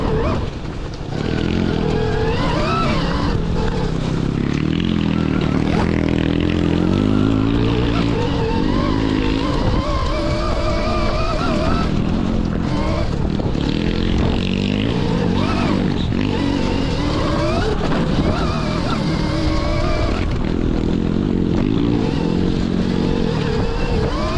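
An electric off-road motorcycle, a Time-ET Freeride built as a copy of the KTM Freeride, rides continuously, loud and close, with wind buffeting and clattering over rough terrain.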